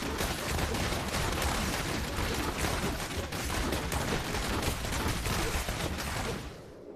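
Rapid crossbow shots from a Demon Hunter using Vengeance in Diablo Immortal, a continuous dense barrage of sharp impacts with steady rhythm, loud and unbroken before cutting off at the end.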